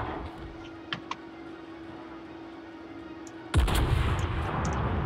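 A single heavy boom of the enemy battleship Kongo's big guns firing in World of Warships, bursting out loud after a quiet stretch of low engine hum and a couple of faint clicks, then rumbling on as it fades.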